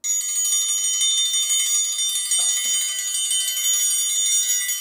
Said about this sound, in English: Because a triangle roll usually goes like this.